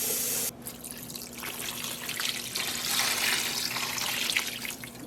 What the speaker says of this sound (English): I just added 8 cups of water